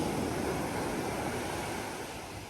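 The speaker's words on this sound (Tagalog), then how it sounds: "At ang dagat. Gandang dagat, gandang dagat." Sea waves wash onto the shore at a beach resort in Infanta, Quezon, a continuous close roar of surf with steady wind noise and no voices.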